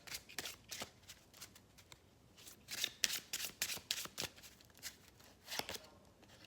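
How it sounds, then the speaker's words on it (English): A deck of tarot cards is shuffled close up in a quick series of crisp riffles and flicks, softly but clearly, with short pauses between bursts and no talking. "I'll have to pull some more cards."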